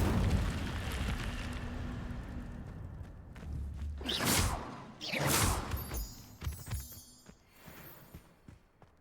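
Incendio fire spell cast in Hogwarts Legacy, two bursts of whooshing flame erupt in quick succession amid rumbling combat effects, loud and close, with no talk.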